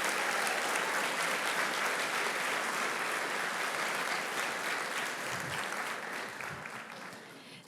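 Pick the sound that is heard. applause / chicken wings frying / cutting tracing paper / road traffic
applause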